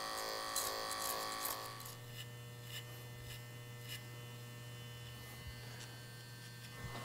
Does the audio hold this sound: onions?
no